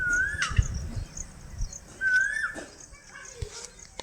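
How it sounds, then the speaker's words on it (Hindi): An Asian koel calls twice in a village by day, two rising whistled notes at moderate distance, with background rustle, a dog whimpering, and faint voices around it. "दिन में भी आवाज देखो कोयल की आ रही है।"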